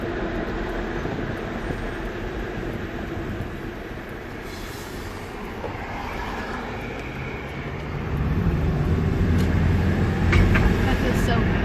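A Subaru Impreza heard from inside the cabin as it turns right and gains speed, a continuous low road and engine rumble that swells louder near the end, with people talking over it.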